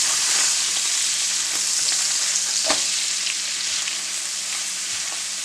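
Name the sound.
sausages browning and sizzling in a pan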